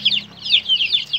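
Chickens in an enclosed closed-house coop cluck close up in quick, chattering bursts, several calls packed into a moment.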